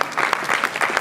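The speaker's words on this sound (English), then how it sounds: "Please, if you are happy, please clap very well." Brief burst of audience applause at a leadership talk, several pairs of hands clapping in quick uneven rhythm for about a second, fairly close and without voices over it.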